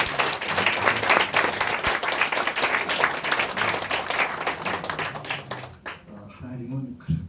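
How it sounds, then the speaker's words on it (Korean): A church congregation claps at a thanksgiving service, dense rhythmic clapping that fills the room before dying away, followed by someone speaking. "우리 한번 좀 박수 좀 주셨으면 좋겠습니다"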